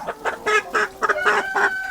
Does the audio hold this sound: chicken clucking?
yes